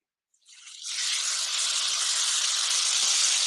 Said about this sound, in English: This is about to sizzle.